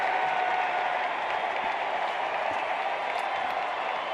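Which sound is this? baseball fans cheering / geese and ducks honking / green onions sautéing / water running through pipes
baseball fans cheering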